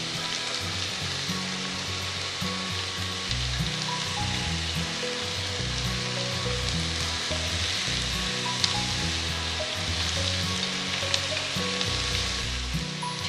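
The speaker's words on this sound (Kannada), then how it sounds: "ಅದಕ್ಕೆ ಕ್ಯಾಬೇಜ್ ಕೂಡ ಹಾಕೊತಾ ಇದ್ದೀನಿ." Cabbage frying in a pan gives a continuous, even sizzle and crackle, close and steady throughout with no talking over it.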